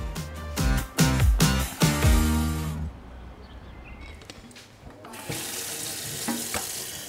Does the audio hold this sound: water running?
yes